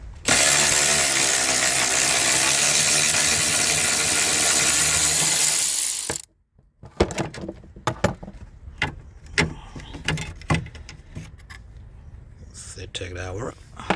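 A loud whirring mechanical noise runs for six seconds, then sharp clicks and rattles follow as a ratchet works a radiator cooling fan bolt on an Acura MDX, with someone talking over parts of it.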